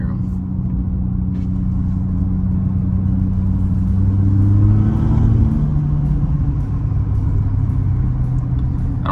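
A twin turbo Corvette E-Ray driving on the road, a steady close engine rumble that swells under acceleration, with a brief rising whoosh of turbo blow-off valves releasing midway.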